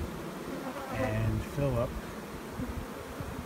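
Honey bees buzz steadily around hive boxes in a bee yard, a continuous drone under someone speaking.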